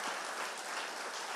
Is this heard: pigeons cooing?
no